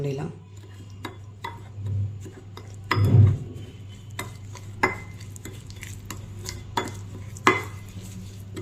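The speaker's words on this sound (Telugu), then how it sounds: "కొంచెం ఆయిల్ వేసి దీన్ని కూడా మొత్తం మిక్స్ చేసేద్దామండి" Chopped ridge gourd chutney ingredients are stirred with oil in a pan, giving scattered scraping clicks and soft utensil knocks against a steady low hum, with one louder clatter partway through.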